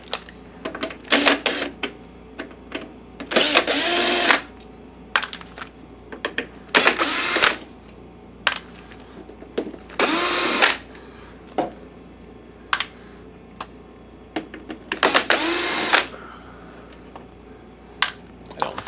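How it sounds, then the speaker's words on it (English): A power driver backs screws out of a Sanyo PLC-XM150L LCD projector casing in short whirring bursts, about six separate runs spaced by pauses and small clicks, close and fairly loud with no talk. "So now let's take some screws out."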